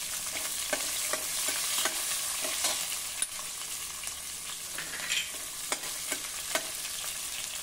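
Plenty of white sesame seeds fry in hot oil with vegetables for vegetable idli, giving a dense, crackling sizzle punctuated by scattered sharp pops and light spatula scrapes, close up and steady, with no talking.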